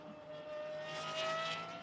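A V12 GT1 race car engine at the Nürburgring during a track session, heard as a steady distant high-pitched drone that swells slightly louder toward the end, with no talk over it.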